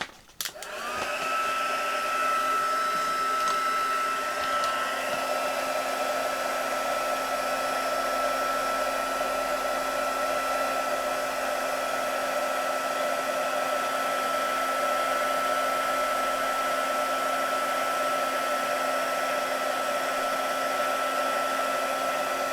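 A craft heat tool blowing hot air onto craft material, a loud steady whirring hum that starts abruptly and runs unbroken, no talking.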